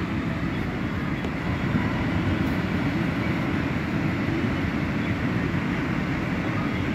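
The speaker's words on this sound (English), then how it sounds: "Train's done, finally." A CSX mixed freight train led by a special CSX engine rumbles past a crossing, giving a steady, loud, continuous roar of wheels and cars that holds at the same level throughout.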